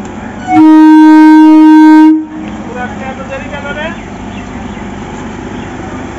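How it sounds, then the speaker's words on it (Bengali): A train pulls away from a station platform. A loud, sustained horn blast lasts about two seconds, followed by a lower rumble and the general noise of the platform. "এই যে প্ল্যাটফর্ম থেকে ট্রেন ছেড়ে দিয়েছে"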